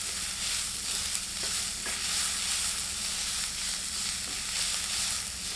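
Chopped onions fry in a small amount of oil in a pan, a steady, close, dense sizzle with a soft crackle running unbroken throughout, no voices.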